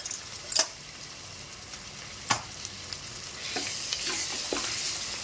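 Chilli powder stirred into frying pav bhaji masala in a pan: a low sizzling hiss with a few sharp spoon knocks against the pan, the frying growing brighter and steadier toward the end.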